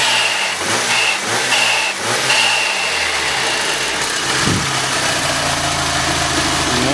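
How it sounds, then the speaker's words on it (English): Mitsubishi Lancer Evolution V turbo engine revving in short repeated bursts, then settling into a steady idle, with a sharp hiss from the turbo blow-off valve as the revs drop; loud and close throughout. "Let's see if I can get the blow-off valve to go off."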